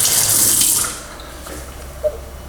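Water running from a tap into a sink, loud and steady for under a second before cutting off, followed by faint room quiet and a small clink.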